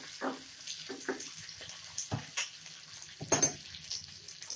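Kadhi with green chillies and curry leaves being stirred in a pan on a gas stove, heard as a few sparse, soft scraping strokes and light clinks against a quiet background, with no talking.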